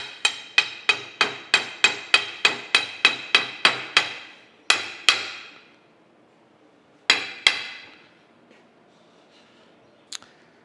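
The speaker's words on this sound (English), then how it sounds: "Let me tap that in. Just using a brass hammer here." A brass hammer taps a tapered pin into a joint while reassembling the apron to the saddle of a Monarch 10EE lathe. Roughly fifteen quick, evenly spaced metallic taps ring out close by, then a few heavier separate blows and a faint final clink.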